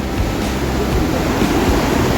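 The Indus River roars steadily and close by near Dras, a loud, thick turbulent rush of water with no pauses.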